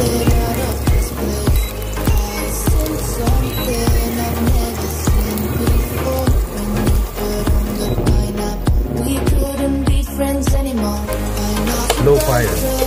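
Garlic and onion fry in a pan at close range, a loud sizzle broken by regular knocks and scrapes of stirring, with no voices heard.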